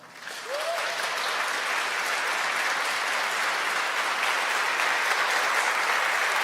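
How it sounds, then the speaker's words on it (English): A conference crowd at an Angular developer gathering in Berlin breaks into applause for a sponsor, quickly swelling after a brief start into a full, steady wash of many clapping hands that holds evenly to the end. "So round of applause for E.ON."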